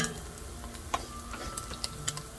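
Flour is stirred into a hot pan of golden cooking fat for a pasta cheese sauce, with a soft sizzle under quiet scraping and a few sharp taps of the utensil, close and fairly faint.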